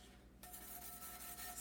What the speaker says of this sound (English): I'm just sanding my cup